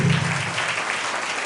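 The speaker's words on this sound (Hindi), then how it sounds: "जोरदार यीशु की ताली बजाएंगे" A church congregation at a Hindi-language worship service claps vigorously together, a dense steady wash of many hands sustained throughout at moderate loudness.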